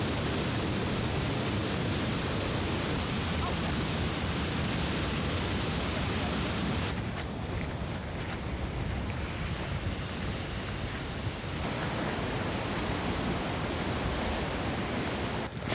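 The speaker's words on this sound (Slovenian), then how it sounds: "Pred nama se je odprl slap" A powerful waterfall in Iceland roars as a dense, unbroken wall of noise close by, steady and loud throughout with slight wind buffeting.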